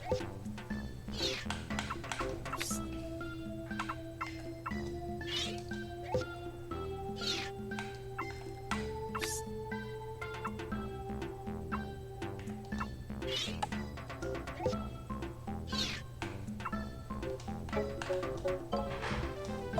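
Meowth's cries sound in Pokemon Snap over a looping game melody, with several short meows scattered across the music at a moderate, steady level.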